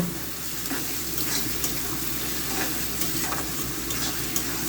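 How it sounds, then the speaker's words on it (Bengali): Dried hilsa with turmeric stir-fried in a pan, a continuous close sizzle and frying hiss with repeated spatula stirring scrapes throughout, no voices. "এইটাকে ভালো করে কষিয়ে নেব"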